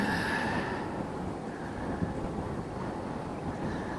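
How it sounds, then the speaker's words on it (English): Steady outdoor wind at the Ceduna foreshore roaring and buffeting against the microphone, constant and fairly loud throughout, with no voices. "it's quite windy out here"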